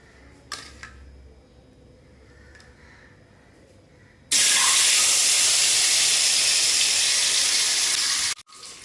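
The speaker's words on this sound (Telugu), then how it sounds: "కొంచెం మనకి ఆయిల్ కూడా హీట్ అయిపోయింది. మనం ఎగ్స్ వేసేసుకుందాం." Beaten, marinated eggs hit hot oil with a sudden loud, steady sizzle that starts partway in and holds bright and hissy for several seconds after a quiet kitchen lead-in, then cuts off abruptly.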